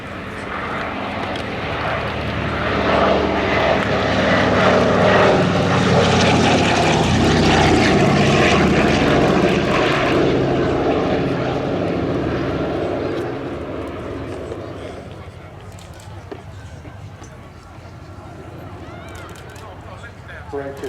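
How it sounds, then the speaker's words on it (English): Douglas C-47 Dakota III propeller aircraft making a final low flyby at an airshow, a loud piston-engine drone that swells, holds and then fades into the distance, with voices talking over it. "we're going to take our last look at the C-47 as it makes its final pass"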